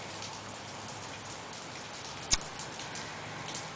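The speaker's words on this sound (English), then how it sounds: "It's raining." Steady rain falls on a very cold day, a soft continuous hiss with one sharp drip or tick standing out midway, with no voices.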